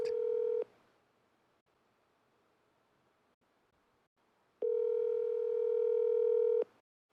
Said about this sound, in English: I'm going to call this fool right now.